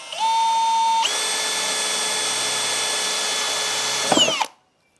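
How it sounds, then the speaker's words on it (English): A power drill whines up, then grinds steadily as a 1/8 inch bit bores through steel for about three seconds before winding down and stopping. "1/8 inch drill bit right through the steel"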